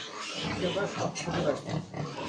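Replacement gilt on a pig farm grunting and oinking in a continuous run of snorts, close and fairly loud, with some voice-like noise mixed in.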